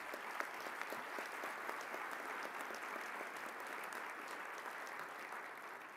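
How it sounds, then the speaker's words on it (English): A large audience at a formal awards dinner applauds in a sustained, even roar of many hands clapping, filling the hall from a moderate distance without any talk on top. "And you should applaud yourself."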